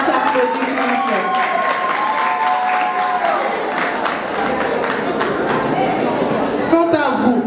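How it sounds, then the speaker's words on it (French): Audience applauding at a beauty-training certificate ceremony, sustained broadband clapping for the whole stretch with crowd murmur and voices mixed in, fairly loud and steady. "ça s'applaudit, s'il vous plaît."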